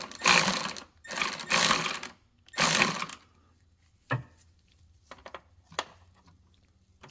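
A Ski-Doo MXZ 850 snowmobile track tensioner being turned to draw in chain slack gives three loud ratcheting bursts of mechanical noise, followed by a few scattered faint clicks and knocks.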